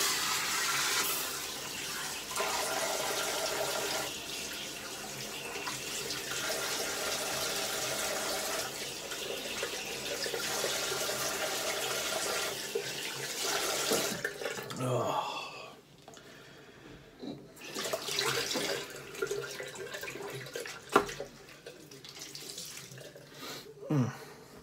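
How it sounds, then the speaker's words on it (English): Tap water runs steadily into a sink for rinsing, a loud, continuous broadband rush that holds for about fourteen seconds, then breaks into shorter splashy bursts and gurgles as the flow is stopped and restarted. "I am going to run the water to rinse."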